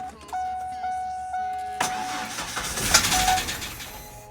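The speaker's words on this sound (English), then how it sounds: "It started and ran." A truck engine, freshly swapped in, cranks with a droning starter whine for about two seconds before catching and firing into a rough, rising run, close and loud.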